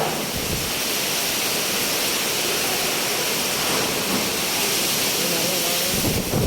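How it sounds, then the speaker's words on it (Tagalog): Typhoon Aghon's wind roars in strong, steady gusts, a loud, broad rush that buffets the microphone continuously, with a voice briefly heard under it. "Bugso na namang hangin"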